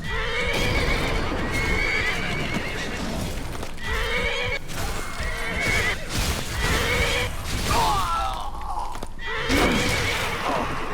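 An undead horse in a heavily modded Skyrim playthrough, with repeated loud neighs and whinnies over clip-clopping hooves and a busy, rough combat-like background, and no talk.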